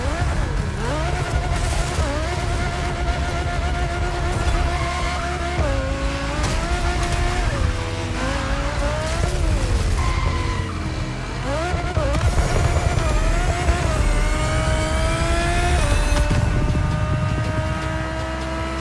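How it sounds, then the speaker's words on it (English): A 1969 Camaro Z28 races in The Crew Motorfest, its engine revving and shifting loudly and continuously up and down through the gears, with tire noise underneath and an occasional voice. "Good thing you're driving the 1969 Camaro Z28."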